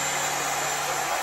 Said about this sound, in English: I have finished blow drying out my hair and testing out the Dyson blow dryer.